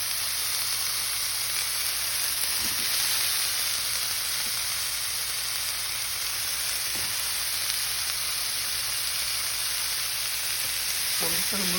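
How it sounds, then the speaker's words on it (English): Mushrooms fry in a hot skillet with a steady, close sizzle that holds for the whole stretch, broken by a few soft stirring clicks and scrapes. "I'm gonna add the mushrooms really quickly."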